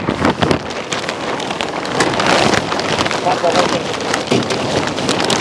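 Rain pours outdoors next to an open-air cooking setup, a dense, steady hiss of drops spattering on surfaces with gusty rushes, fairly loud and continuous throughout.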